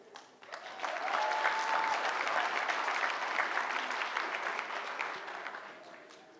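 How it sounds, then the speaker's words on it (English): Sustained audience applause at the 2018 Le Vian Red Carpet Revue, a dense crowd clapping loudly for about six seconds before tapering off, with no voices over it. "please give a big round of applause for Ross Matthews, our MC."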